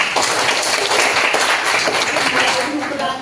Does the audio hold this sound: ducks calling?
no